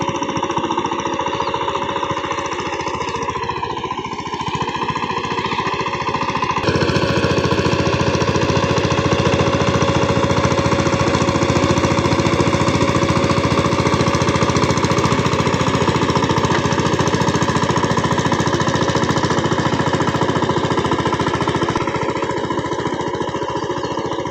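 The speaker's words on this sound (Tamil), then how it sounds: "வண்டி ஓட்டி ஓட்டிகிட்டு போகிறது பெரிய அண்ணா பின்னாடி பரம்பு பிடிச்சிட்டு போகிறது எங்கள் அப்பா" A tractor pulling a leveller through a flooded paddy field during rice planting makes a loud, continuous chugging diesel drone that grows heavier after a few seconds and holds steady throughout, with no talk.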